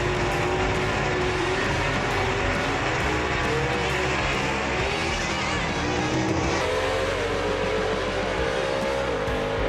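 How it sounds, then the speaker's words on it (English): A 1955 Ford Thunderbird gasser race car launches down a drag strip, its engine roaring loud and continuous as it accelerates hard through the gears, with a steady, dense drone throughout and no talk. "Mike Blackwell with a good launch and a straight run right there."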